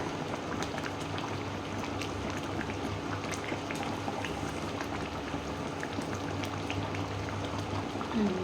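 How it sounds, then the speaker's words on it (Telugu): Fish curry simmering in a pot, with a dense, steady bubbling and hissing that stays even and close throughout. "మన చేపల పులుసు కూడా ఉడిగిపోతుంది"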